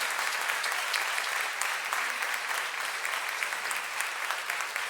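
A church congregation claps for the word of the Lord, a dense, even wash of applause that holds steady throughout.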